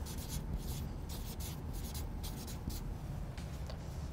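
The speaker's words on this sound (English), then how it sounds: "So we're going to write unequal." Pen or marker writing a word on a surface, a continuous close scratching and rubbing in short strokes with brief pauses between letters.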